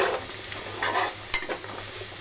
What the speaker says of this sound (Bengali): আলুটা আর বাদামগুলো ভাজা হয়ে গেছে।